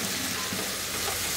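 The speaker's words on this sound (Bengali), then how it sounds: "দিয়ে আমার এটাকে একটু ভেজে নিতে হবে, পেঁয়াজটা যাতে রংটা বদলা একটু স্বচ্ছ হয় আর কি।" Finely chopped white onion frying in a pan, a dense, steady hiss of sizzling oil held close and even for a moment, with no stirring strokes standing out.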